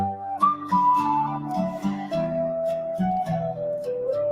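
AI-generated Irish-style song with penny whistle, bodhrán, violin and acoustic guitar, a bright whistle melody carrying over steady strummed and drummed accompaniment, loud and continuous throughout.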